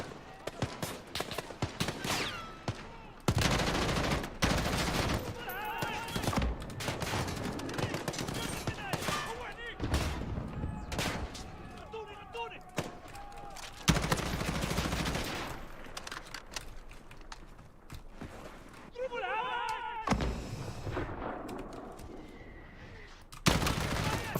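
Gunfire in Call of Duty: Modern Warfare (2019), loud bursts of automatic weapons and single shots with sharp cracks and gaps between volleys, while a player talks over the battle.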